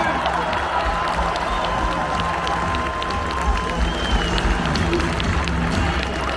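A large arena crowd cheers and applauds for Finnish hockey forward Jesse Puljujärvi at a gold-medal celebration, a steady, loud roar with clapping and shouts sustained throughout.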